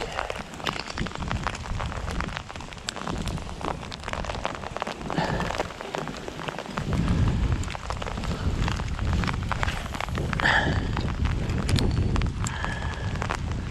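Steady rain, hail and sleet patter and hiss on surfaces nearby beside a canal, with scattered sharper taps throughout, no voices.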